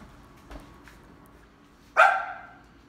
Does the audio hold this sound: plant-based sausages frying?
no